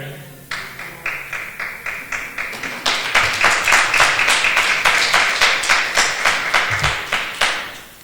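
A church congregation clapping during a sermon: rhythmic, evenly timed hand claps that start sparse and grow fuller and louder after about three seconds, continuing steadily to the end without talk.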